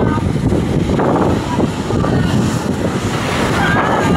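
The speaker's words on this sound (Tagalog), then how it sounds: "may bagyo ngayon. Malakas ang alon." Rough typhoon seas pound the shore in Aklan while strong gusts of wind roar steadily, the surf and wind noise loud and unbroken across the whole stretch.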